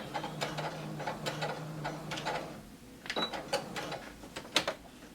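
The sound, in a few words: sewing machine back stitching a skirt seam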